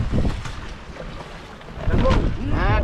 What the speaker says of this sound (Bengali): বিরাট জোরে হাওয়া ছাড়ছে